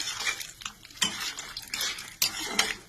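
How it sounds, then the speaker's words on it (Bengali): Peanuts frying in a pan, stirred with a spoon: soft rattling scrapes and clinks come in uneven bursts over a faint, quiet sizzle, heard up close. "লাল লাল করে বাদামটা আমি ভাজবো, খুব সুন্দর করে লাল লাল করে ভাজবো"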